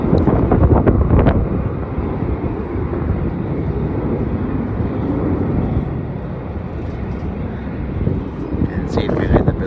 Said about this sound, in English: also flying to Auckland, and it's a Boeing 737,